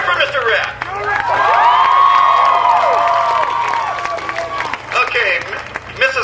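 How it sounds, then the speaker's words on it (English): A crowd at a high school homecoming parade cheers, whoops and applauds, with loud overlapping shouts and clapping that rise and hold, then fall away into scattered claps. "So cheer for Mr. Rep!"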